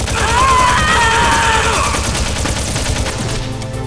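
Dense burst of video game gunfire from Metal Gear Solid, loud rapid shots with crashing effects packed together, fading slightly toward the end.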